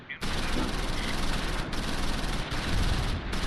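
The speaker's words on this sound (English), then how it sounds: "Lots of bullets flying in the chateau." Dense, continuous small-arms and machine-gun fire crackles in the Close Combat V war game as a battle rages around a chateau, loud, close and sustained with brief dips, and no voices.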